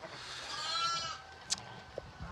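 Sheep at a lambing farm bleating, a drawn-out harmonic bleat in the first half followed by a couple of short sharp calls, moderately close and heard alone over quiet outdoor background.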